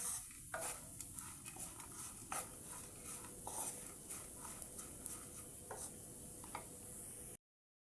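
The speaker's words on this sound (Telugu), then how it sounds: "ఈ ఓట్స్ని ఇలా కలబెట్టుకుంటూ ఫ్రై చేయండి" Oats are stirred while they dry-fry in a pan, giving steady scraping and light clinking of the spoon against the metal over a soft sizzle. The sound is close and continuous, with no talking.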